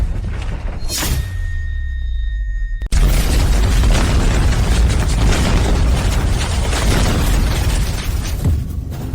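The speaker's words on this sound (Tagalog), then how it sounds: "Hindi pa siya nakakaluhod, pero biglang sumabog ang kabaong." A sudden loud boom bursts out as a coffin explodes, cutting off a quieter tonal passage and leaving a long, dense roaring crackle of debris that fades slowly over several seconds.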